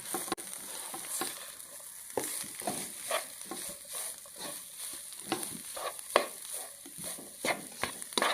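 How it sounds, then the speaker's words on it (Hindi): Radish pieces fry and get stirred into a garlic and ginger masala in a pan, with a steady close sizzle broken by repeated scraping strokes of the spoon over several seconds, and no speech. "ये मूली अब मैं भून लूँगा इसके अंदर"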